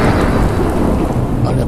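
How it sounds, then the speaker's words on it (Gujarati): Loud, close thunder rolls and crackles continuously alongside heavy rain, a dense roaring storm effect with no pauses. "જેમ વીજળીઓ રમતા ચડે એવા કડાકા થવા માંડ્યા."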